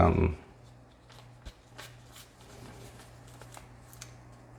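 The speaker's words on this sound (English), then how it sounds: "you can see here what tearing it does, how it tears it away." A plastic membrane is peeled away from a Commodore SX-64 keyboard during repair, heard as quiet crackly ripping and tearing pulls after a brief loud handling noise at the start.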